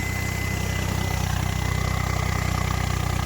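A diesel Ford 855 turbo tractor engine, its turbo not working properly and low on rpm, runs steadily at low idle, a deep rhythmic chug with constant vibration and no voices.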